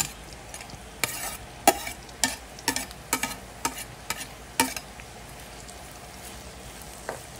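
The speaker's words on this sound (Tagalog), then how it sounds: "Prito po na, crispy po natin yung sibuyas." Onions sizzle steadily in oil in a pan, frying crispy for biryani, while a utensil scrapes and stirs in a series of sharp, irregular clacks, then the activity quiets toward the end.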